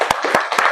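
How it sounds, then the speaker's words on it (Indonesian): Children in a classroom clapping hands together at the end of a lesson, a few sharp, closely spaced claps, near and fairly loud, in a brief burst. "Tepuk tangan dulu."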